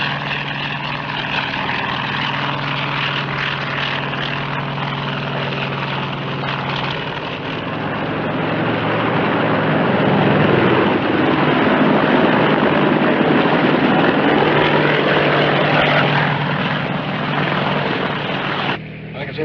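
A propeller airplane drones overhead in an old war film set in a quiet valley, its steady engine roar building to a peak then easing off, loud and continuous with a brief cut at the end.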